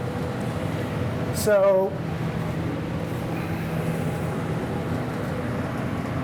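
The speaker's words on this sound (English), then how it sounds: "this one is also a clean hood, but it also exhausts, and you can hear the fan going" A steady whooshing drone from a laboratory clean hood's exhaust fan runs continuously, with a brief spoken word and a short rising whine near the start.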